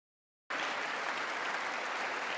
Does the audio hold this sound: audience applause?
yes